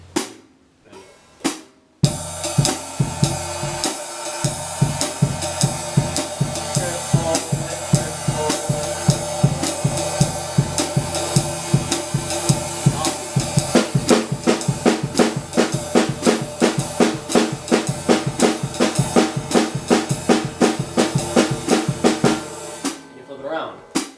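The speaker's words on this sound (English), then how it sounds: "quarter note triplets, and then play the offbeats on your bass drum." A drum kit plays a steady quarter-note triplet groove with offbeats on the bass drum and cymbals, building busier toward the end, after a few opening hits.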